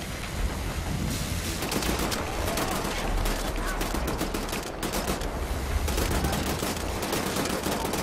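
Dense, sustained gunfire from the Wolfenstein The New Order video game, a continuous near barrage of rapid shots and bursts filling the whole stretch without letup.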